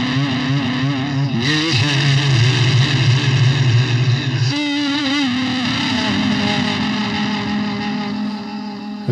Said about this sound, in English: I will go into distortion and bring that down even further